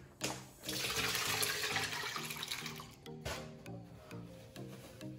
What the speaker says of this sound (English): I'm going to drain the strawberries.